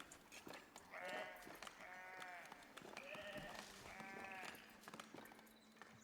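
Several sheep bleating one after another in the video game Foundation, clear and close, with short breaks between calls over a faint background hum.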